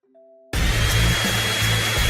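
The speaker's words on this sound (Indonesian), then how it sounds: "Kamu hanya perlu meniupnya dengan pengering rambut." A hair dryer starts up after a brief low hum and blows steadily at full power, loud and close with a constant whooshing roar, with no talking.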